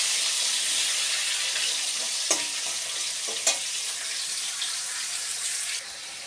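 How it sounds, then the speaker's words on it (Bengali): Potatoes fry in hot oil with a steady bright sizzle, broken by a couple of sharp clatters as they are stirred, before the crackle eases slightly near the end. "একটু লাল লাল করে আলুটা ভাজতে হবে।"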